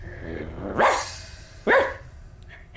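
A person imitates a dog barking, giving two loud, sharp woofs about a second apart and then a fainter short yip, close to the microphone.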